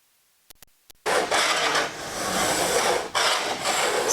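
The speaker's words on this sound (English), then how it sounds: "So this process that Robert is doing right now is deburring" Metal parts for an aircraft horizontal stabilizer being deburred: a few brief clicks, then a steady, loud abrasive scraping and whirring that runs continuously with one short break, close by and without talk.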